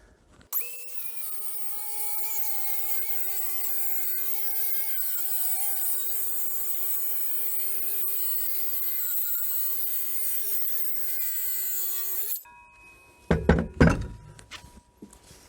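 A Vitals ARg 18165Pa cordless circular saw rips lengthwise through a wooden workpiece with a loud, sustained whine that holds steady for about twelve seconds, then cuts off, followed by a few sharp knocks as the piece is handled.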